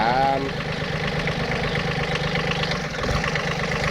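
An old Japanese tractor's A13 three-cylinder, 13-horsepower engine idles steadily with a low, rhythmic chugging throughout, fairly close; a brief voice is heard at the start.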